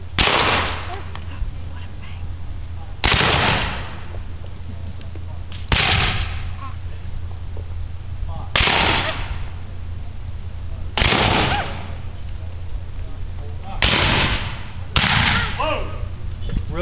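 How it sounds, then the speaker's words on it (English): Civil War reenactment musket volley on Lookout Mountain, Chattanooga, fired by file: seven sharp, loud reports spaced a few seconds apart, each with a rolling outdoor echo. Steady low background rumble sits beneath them. "Fire by file. Commit firing."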